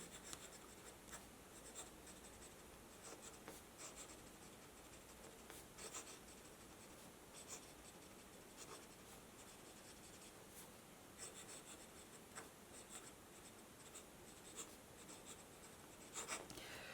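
A Jinhao 82 fountain pen scratches quickly across paper in a quiet room, giving faint, steady strokes with small clicks between words.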